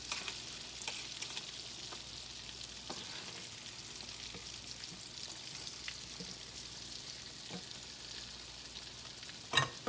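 Cornbread and onion fritters sizzle steadily in a hot pan, a continuous crackling fry with faint scrapes and a sharper clatter near the end, no voices.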